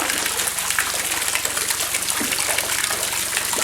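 A pump-driven water shower splashes steadily into a fish pond, a continuous, fairly loud rushing and gushing spray with no voices over it.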